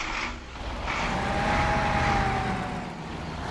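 A heavy truck in the Spintires off-road game cranks and catches, settling into a low, steady engine rumble with a rising whine, heard alone at moderate volume.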